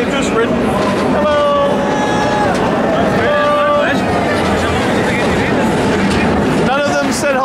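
The Olympia Looping roller coaster train at Oktoberfest rumbles and screeches past on its track amid a loud fairground crowd, with people talking and shouting close by throughout.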